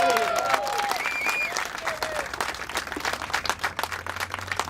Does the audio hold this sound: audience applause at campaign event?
yes